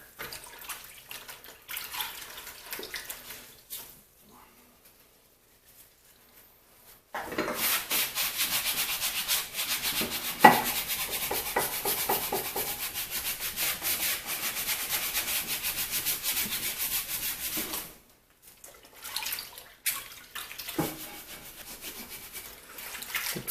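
A dirty copper vise jaw is rubbed clean with a rag, giving a steady close scrubbing hiss for about ten seconds, framed by quieter stretches of faint handling and short rubbing bursts.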